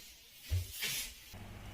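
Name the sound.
spray bottle spraying water onto a mirror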